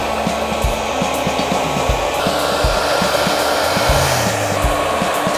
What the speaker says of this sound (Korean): 헤어 드라이기니까 좀 더 가까이 주세요